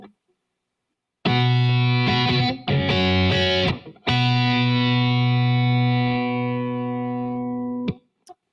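Two sustained notes played together on a kite guitar, an electric guitar with a smooth, processed tone, briefly articulated in the middle, then held and ringing before cutting off.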